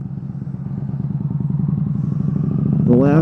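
A motorcycle engine runs during a ride, a loud, close, rapid pulsing thump that climbs slightly in pitch, with a brief voice at the end.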